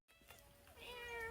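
A collared cat meows close by, one drawn-out call rising in pitch and held to the end, loud and clear with no talk over it.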